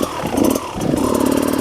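A Beta Xtrainer dirt bike engine runs while being ridden, a loud close-up mid-pitched drone with rhythmic pulsing and a brief swell in revs.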